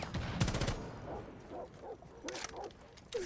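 Gunfire is exchanged in the video game Rainbow Six, with a few sharp shot bursts over a faint background and brief muffled vocal sounds between them.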